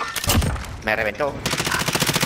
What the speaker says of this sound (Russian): Ой, там стреляют, ребята.